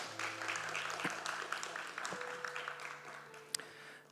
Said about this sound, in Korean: 우리 박수로 마치겠습니다.